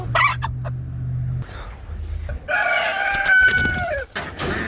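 A hen clucks and squawks loudly and close by as she is caught, with harsh, agitated calls and some handling noise between them.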